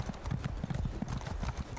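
Horse hooves clip-clop in a quick, steady gallop rhythm as a rider travels on horseback in the Elder Scrolls Online: Morrowind video game, loud and close throughout.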